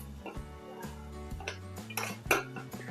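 A spoon scrapes and clinks against a cooking pan while chana masala is stirred in oil, giving a steady run of metallic knocks with a sharper clatter near the end, close and fairly loud with no voices.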